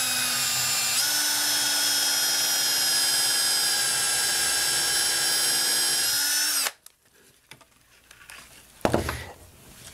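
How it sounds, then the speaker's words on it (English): A loud, steady high-pitched whine of a power drill boring through tightly held stacked paper for several seconds, then cutting off abruptly, followed by a few faint handling clatters. "Held them down tight and started to drill through there."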